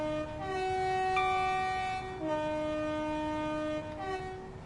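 A train in Train Sim World 5 sounds a long, loud multi-tone horn, held steadily, then dropping briefly and sounding again, with a faint rumble of running underneath.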